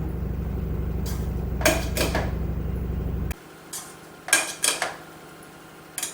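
Coconut milk biryani rice is gently mixed in a pot with a few separate scrapes and clinks of a spoon against metal, while a low steady hum drops away partway through and nobody speaks.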